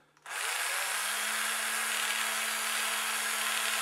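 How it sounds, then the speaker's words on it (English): A small cordless battery drill whirs up after a quiet start and keeps spinning at a steady, even pitch, close by, with no voices. "we just drop these into our little battery drill"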